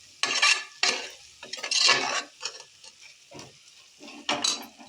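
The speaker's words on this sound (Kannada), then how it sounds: "ಈ ರೀತಿ ಚೆನ್ನಾಗಿ ಮಿಕ್ಸ್ನ ಮಾಡ್ಕೊಳ್ಳಿ." Masala mixed with curd being stirred in a pan for egg biryani: a series of close scraping and slapping strokes at an uneven rhythm, with a faint sizzle beneath and no talk.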